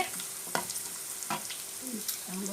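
Garlic, dried red chillies and urad dal sautéing in hot oil give a soft continuous sizzle, broken by a few brief scraping stirs of a spoon against the pan.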